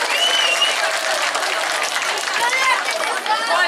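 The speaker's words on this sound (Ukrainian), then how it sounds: "Тому всіх вітаємо оплесками." Steady applause from a crowd at a children's event in Bukovina, a dense wash of clapping that holds evenly for the whole stretch with a few voices mixed in.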